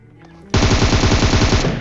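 A sustained burst of rapid automatic gunfire in the video game PUBG, loud and close, rattling continuously for over a second after a brief quiet lead-in.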